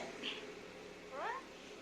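A faint, short meow-like call, a parrot mimicking a cat, two brief squeaky rising notes over a quiet background.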